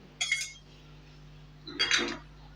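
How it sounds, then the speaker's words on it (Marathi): Two short bursts of a metal spoon clinking against a bowl while tomato omelette batter with finely chopped tomatoes is stirred, close and crisp, separated by a quiet pause over a low steady hum. "आत्ता चमच्याने मी सारखं करून घेत आहे"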